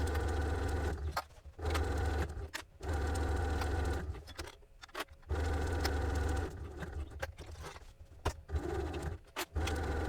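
A sewing machine stitches fabric in bursts of rapid, droning mechanical whirring, stopping and restarting several times with short pauses and faint handling between runs.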